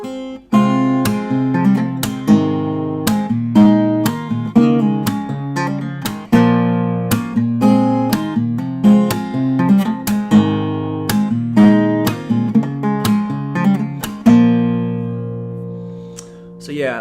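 A fingerstyle acoustic guitar plays the chorus of a song, with steady plucked notes and chords punctuated by regular percussive taps on the body, close and clear with no voices.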